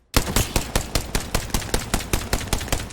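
Sustained automatic fire from a gun sprayed in Apex Legends, a rapid even stream of about a dozen loud, close shots in a steady rhythm with no talking.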